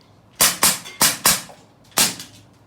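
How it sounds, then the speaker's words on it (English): BB gun revolver shooting an iPad screen, five sharp snapping shots, four in quick succession and then one more after a short pause, loud and close. "I'm going to shoot up the screen some with this"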